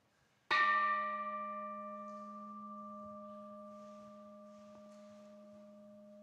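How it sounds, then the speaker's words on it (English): A meditation bell is struck once and rings out in a long, clear, sustained tone that slowly fades, with a few soft background noises and no talking. "as I ring this bell and let the sound connect us"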